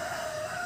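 Rooster crowing at a resort garden with a bird sanctuary, a sustained bright call held steadily throughout, fairly loud and close, with no talking.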